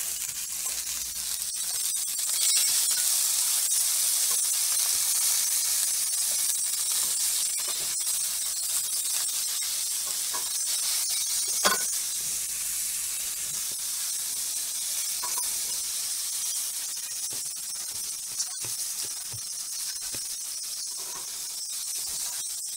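Butter sizzling and hissing in a hot frying pan alongside seafood, a steady broadband crackle that stays close and loud throughout with occasional sharper pops.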